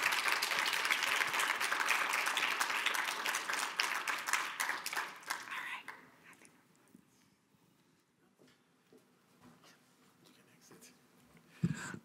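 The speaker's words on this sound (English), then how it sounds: "I think that deserved another round of applause." An audience at the 2022 US-Africa Business Forum applauds, a dense burst of many hands clapping for about six seconds before it thins out into scattered claps and quiet room noise.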